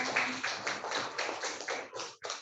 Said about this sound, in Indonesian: Beri tepuk tangan buat kelompok Bayam.